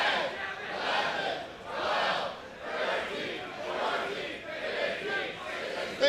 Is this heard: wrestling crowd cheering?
yes